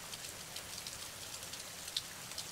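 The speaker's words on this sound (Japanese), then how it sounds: "雨の音を聞くと不思議に癒されたり心が落ち着く感じがします。" Steady rain patters softly on a surface, a faint even hiss broken by a few distinct drops, with no voices.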